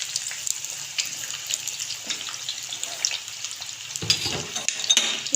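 Potatoes frying on a hot tawa while being stirred, a bright steady hiss with scraping and a louder burst of sizzling and rattling toward the end.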